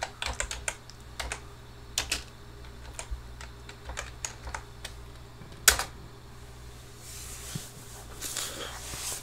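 A computer keyboard clatters as a disk partitioning command is typed, with irregular close key taps, brief bursts and a louder keystroke near the middle, followed by a soft rustle at the end.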